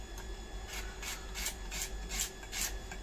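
A knife cuts potatoes, onions, ginger and garlic on a board in a steady rhythm of scraping strokes, about three per second, close by and fairly quiet.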